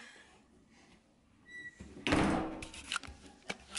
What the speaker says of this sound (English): He's closing the door.